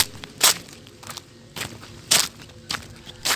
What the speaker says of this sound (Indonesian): Seperti suara langkah kaki yang berjalan di semak-semak.